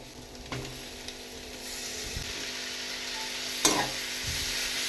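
Chow mein frying in a pan with egg, a soft, continuous sizzle heard close up, with a few sharp clinks and scrapes of a utensil stirring.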